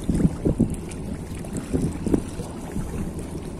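Wind buffeting the microphone at a coastal fishing spot for mullet, low gusty rumbles with a few sharper bumps and rustles, close and fairly steady with no talk.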